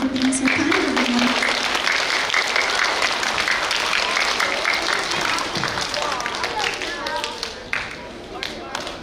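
Student-of-the-month award ceremony applause, a crowd clapping steadily and fairly close for the whole stretch, tapering off toward the end, with voices mixed in.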